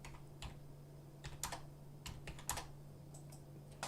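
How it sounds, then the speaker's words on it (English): A computer keyboard is typed on in short bursts of crisp, close key clicks with brief pauses between them. The clicks sit over a quiet low hum. "Oh, why am I typing that?"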